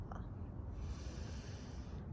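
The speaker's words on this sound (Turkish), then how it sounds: "Derin bir nefes aldım." A single deep breath taken during a face yoga exercise, a soft, steady breathy rush lasting about two seconds, faint and close with no talking over it.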